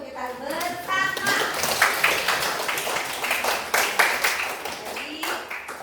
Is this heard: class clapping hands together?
yes